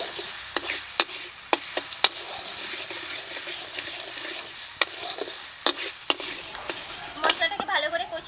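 Masala of turmeric powder, salt and Kashmiri chilli powder sautéed in a frying pan for an okra and potato curry, with a steady soft sizzle broken by sharp scraping clicks of stirring, close and continuous.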